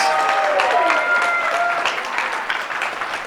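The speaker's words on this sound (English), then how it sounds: "Big round of applause for him, please." An audience at the FP2018 opening ceremonies gives a hearty round of applause for the master of ceremonies, thick clapping with faint voices mixed in, tapering slightly toward the end.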